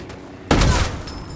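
A single sharp burst of gunfire at a helicopter in Ghost Recon Wildlands breaks out loudly after a quiet moment, then rings and fades.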